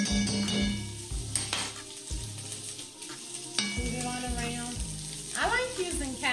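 Butter sizzling and frying in a hot cast iron pan while being stirred, a steady close crackle running throughout with occasional scrapes and clinks of utensils against the pan.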